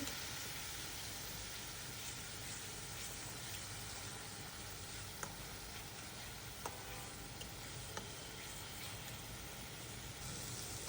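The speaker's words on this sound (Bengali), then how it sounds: "সব মশলাগুলোকে আমি ভেজে নিচ্ছি" Onion, garlic and ginger pastes frying in hot oil in a wok, a steady close sizzle running throughout with a few faint clicks and taps of a utensil, no talking.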